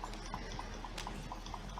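Horse hooves gallop in a quick, steady rhythm in the Red Dead Online video game, a continuous run of soft beats at moderate volume with no talk.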